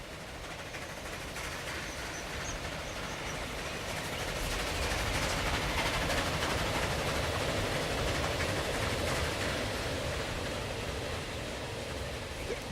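A train passes in the Transport Fever video game, a continuous dense rumble and clatter that swells toward the middle and stays loud throughout, with no voices.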